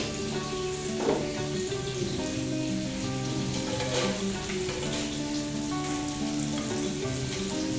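Dried red chillies dry-roasting in a pan give a steady, close crackle and sizzle with soft rattling as they are stirred, no talk over it.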